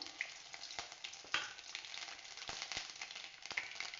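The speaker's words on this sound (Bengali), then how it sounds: "প্রথমে শুকনো লঙ্কাগুলো দিয়ে দেব তেলের ওপর এই যে পাঁচ ফোড়নগুলো দিয়ে দিলাম" Dried chillies and panch phoron sizzle in hot oil, a soft steady frying hiss with a few sharp pops and crackles, faint and close, without speech.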